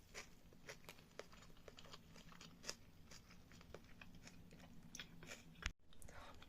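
Someone eats while studying, with faint, close crunchy bites and soft chewing clicks scattered irregularly over a quiet room; no talking.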